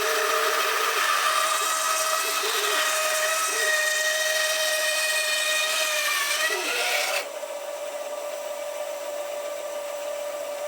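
A Record BS250 bandsaw slices through a length of old timber, a steady high whining rasp of the blade that runs for about seven seconds, then the cut ends abruptly and only the machine's quieter idle hum remains.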